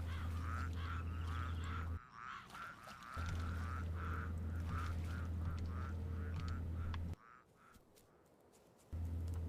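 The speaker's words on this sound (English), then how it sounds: "That's supposed to be frogs? That sounds like ducks to me." Frogs in the video game The Secret World give loud, duck-like quacking honks in a rapid repeating chorus over a steady low hum, with two brief breaks where the calls drop out.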